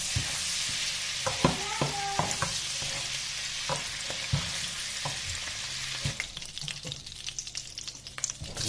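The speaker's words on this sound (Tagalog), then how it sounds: "Prito muna natin yan." Food sizzles steadily in a hot pan, with clinks and scraping of a utensil stirring through the frying.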